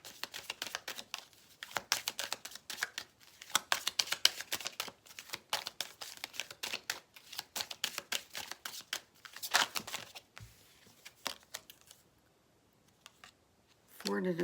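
Starseed oracle cards shuffled in repeated bursts of crisp riffling and flicking, close and fairly loud, with short pauses between bursts and a quiet gap near the end before the card noise resumes.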